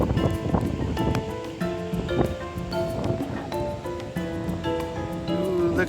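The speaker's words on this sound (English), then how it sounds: "Ooh, look at those waves." Surf rolling in on a cloudy, windy day at Glass Beach near Mendocino, a steady wash of breaking waves with wind buffeting the microphone throughout.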